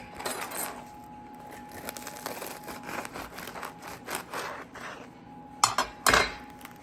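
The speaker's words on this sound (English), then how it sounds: "which I'm just gonna slice up here really quick" A knife cutting through a Vietnamese roast pork banh mi with cucumber and chives on a board, soft crackly crust crunches and scrapes building up, ending in two sharper knocks as the blade hits wood; no talking.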